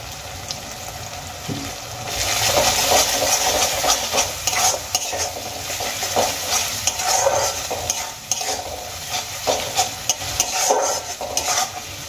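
Onion, ginger and garlic fry with turmeric in a pan for an egg curry, a continuous sizzle broken by repeated scraping and stirring strokes of a utensil, moderately close and with no talk.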